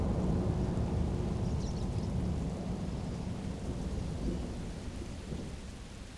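Rain falls steadily on the African plains while low thunder rolls through a storm, a continuous rumbling wash of moderate loudness that eases slightly toward the end.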